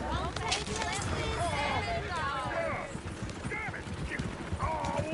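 Horse hooves clip-clop through a busy Red Dead Redemption 2 street scene, with horses whinnying and hoofbeats mixed into a steady crowd babble and raised voices throughout.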